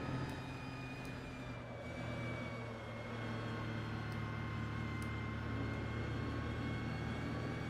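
A Ford Transit MkVI van engine drones steadily at low revs in Assetto Corsa, a smooth continuous hum at moderate level without speech.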